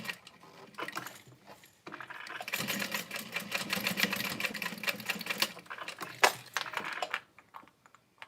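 A sewing machine runs a box stitch on a leather bag, sewing in fast, steady rattling bursts that build to a sustained run, with short pauses where the stitching stops and restarts.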